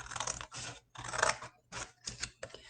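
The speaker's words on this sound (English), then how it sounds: "So we're going to go ahead and cut out our star." Scissors snip through paper, cutting out a star shape, in several short bursts with brief pauses between cuts, close and fairly quiet.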